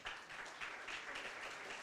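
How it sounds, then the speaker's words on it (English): An audience applauds a keynote by the CEO of Starfish Organic at a conference opening ceremony, with steady, dense clapping that holds at a moderate level throughout. "Can we please give him another round of applause?"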